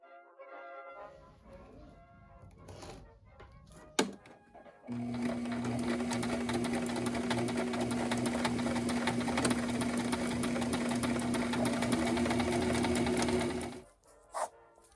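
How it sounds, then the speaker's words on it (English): A sewing machine stitches a hat band onto a hat in one loud, steady whirring run of about nine seconds, with brief handling clicks and rustles before and after. "I thought I was going to look all aesthetic sewing the hat band on"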